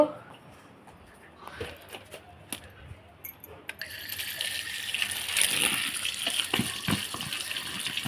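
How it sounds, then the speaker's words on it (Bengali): Freshly picked starfruit washed under running water, with light handling clatter that gives way to a steady gush of flowing water growing louder in the second half. "এবার ধুয়ে নেব চলেন কামরাঙ্গাটা ধুয়ে নেব"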